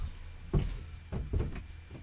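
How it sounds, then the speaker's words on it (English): A child knocking on a bedroom door during a late-night stream, two short clusters of dull close knocks about half a second apart with quiet room tone between. "Hold on, we've got a knock."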